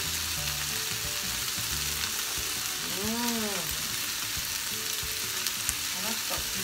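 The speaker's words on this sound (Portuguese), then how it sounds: "E aqui a manteiga tá derretendo" Butter melting with cream in a pan sizzles with a steady, close frying hiss, broken by light clinks and scraping of a utensil, while rice with milk and sun-dried beef is prepared.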